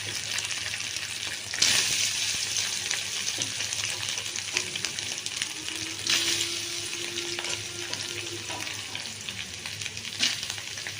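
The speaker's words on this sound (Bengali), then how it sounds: "এটাতেই সোয়াবিনগুলো একটু নেড়ে চেড়ে ভেজে নেবো" Soybean chunks frying in darkened, reused oil, a steady loud sizzle running throughout with occasional spatula stirs and scrapes close by.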